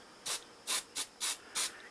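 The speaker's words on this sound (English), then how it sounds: "I've just got some general purpose glue, spray glue," General purpose spray glue is sprayed onto carpet during a flight case repair, five short, close hissing bursts separated by brief pauses.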